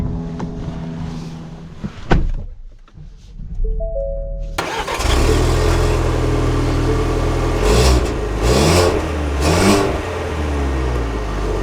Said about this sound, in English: And let us set off in the Explorer XLT.